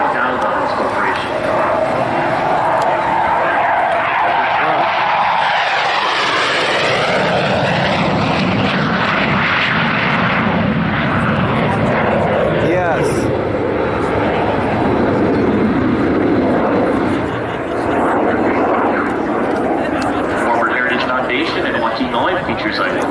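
A McDonnell Douglas A-4 Skyhawk jet makes a low pass down the show line at a Michigan air show. Its loud, steady engine roar swells and shifts pitch as it passes, with an announcer talking over it throughout.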